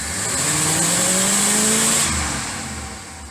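A car engine fitted with an Edelbrock carburetor and due for a tune-up revs up, its pitch climbing steadily, then falls back and idles on, loud and close with no talking.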